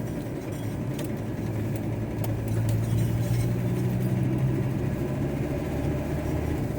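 A slow-moving van driving on a road in Edinburgh, heard from inside the cab as a steady low engine rumble and tyre road noise, constant and fairly loud without any talking.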